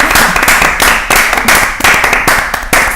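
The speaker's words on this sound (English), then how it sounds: "should we give him a clap?" A small audience at a fashion panel discussion gives a round of clapping, loud close hand claps in an uneven rhythm with a few sharp individual claps standing out.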